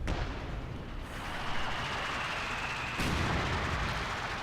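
Mortar fire in the Company of Heroes 2 strategy game on a winter map, booming blasts and a roaring rumble of explosions, with a fresh loud impact partway through.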